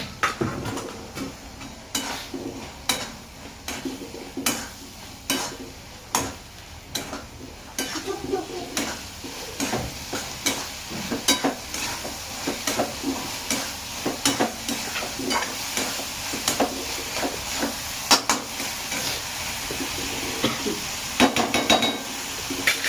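Dried javla (sukat) shrimp sizzling in a pan while a spoon scrapes and knocks against it, repeated metallic clatters over a steady frying hiss, close and fairly loud.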